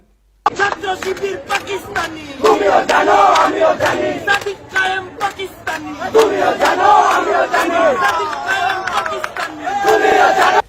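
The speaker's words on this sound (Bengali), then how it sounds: "এই যে দেখেন মেঘমাল্লার স্লোগান দেয়" A large crowd at a political rally chants slogans in rhythmic, loud bursts, many voices shouting together with sharp, repeated beats between the chanted phrases.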